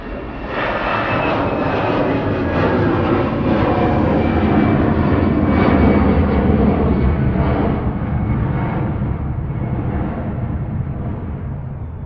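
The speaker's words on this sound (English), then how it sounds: "Geordie Jet2 going" Jet2 airliner taking off from Manchester Airport, a loud sustained engine roar that swells and rumbles for the whole stretch, heard outdoors without talking.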